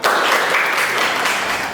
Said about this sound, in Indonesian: tepuk 3, tepuk 2, tepuk 1, tepuk 1, tepuk 1, tepuk tangan